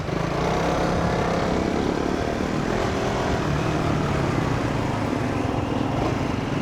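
A small, agile motorcycle engine runs in a steady, unbroken drone, close and fairly loud, with no voices over it.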